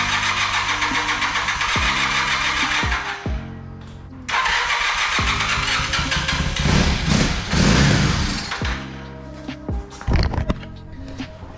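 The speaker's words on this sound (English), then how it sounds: "I'm gonna go ahead and send 12 volt with my power probe and see if she'll start." A motorcycle engine is started with starting fluid and 12 volts from a power probe. The starter cranks loudly several times, the engine catches and revs roughly, and it dies, followed by more cranking attempts up close.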